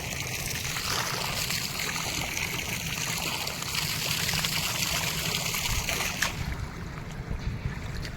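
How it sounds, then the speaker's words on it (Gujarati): Water running from a motor-pumped tap on a fourth floor, a continuous moderate gushing flow that stays fairly even and eases near the end, with no voices. "મસ્ત સારી મોટર ચાલે જો પાણી ચાલે ઉપર"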